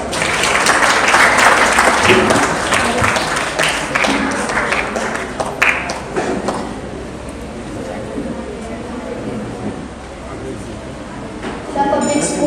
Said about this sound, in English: Let's welcome the performers on the stage with a huge round of applause.